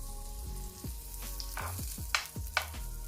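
Butter melting in a hot frying pan while breakfast is made, giving a steady soft sizzle with a few sharper scrapes and taps of the pan or utensil near the end.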